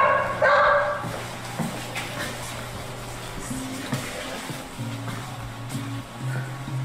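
A dog at a shelter or rescue barks and whimpers in short bursts near the start, followed by quieter yips and low murmuring over steady background noise.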